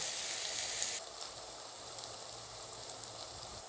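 Chopped onions frying over a high flame in a village handi pot, giving a steady, close sizzle that is louder for the first second and then settles into an even crackle, with no talk.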